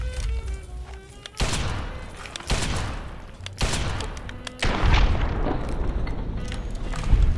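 Heavy revolver shots from Callahan's Magnum in Fallout's Tale of Two Wastelands ring out as several loud, booming blasts a second or so apart, each trailing off into a rumbling decay.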